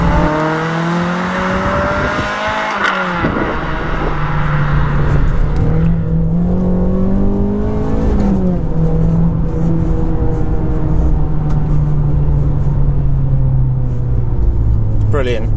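Renault Clio 197 R27 engine revving hard with a steady drone and pitch sweeps, a sharp crackle near the start and an exhaust pop at the end, close and loud with voices over it.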